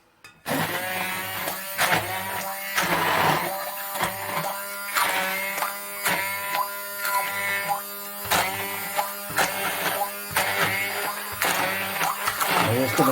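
A small blender pureeing bean soup, a loud steady motor whir with a pulsing buzz as the blades churn, starting abruptly after a brief silence and running continuously up close.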